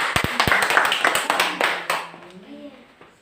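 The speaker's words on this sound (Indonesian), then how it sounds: "Tepuk tangan dulu untuk kelompok 1." A classroom group claps for a presenting student team, a short scattered round of hand claps with talk mixed in, fading away toward the end.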